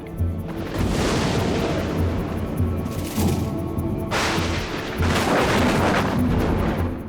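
Thunder from a storm rolls on and on as heavy, deep rumbling, with louder cracks and surges around the middle and toward the end, loud and continuous with no voices.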